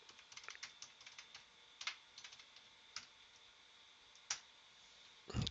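Quiet, scattered keystrokes on a computer keyboard, heard as light clicks in irregular bursts with a few sharper taps, close and isolated against a faint hum.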